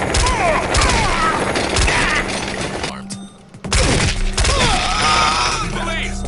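Sustained gunfire in the tactical shooter SWAT 4, loud and dense bursts of shots with a short lull midway before the shooting resumes at full intensity.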